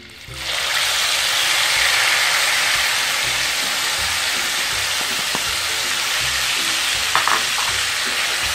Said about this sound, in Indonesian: Sekarang kita goreng cabenya dengan minyak yang sudah kita goreng buah nangka tadi.